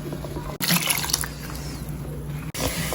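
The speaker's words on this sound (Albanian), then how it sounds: "Thjesht shtojmë ujin dhe e përziejmë që të formojmë një masë të hollë dhe homogjene." Water pours steadily into a mixture for about two seconds, a continuous splashing trickle with faint mixing sounds, between brief pauses.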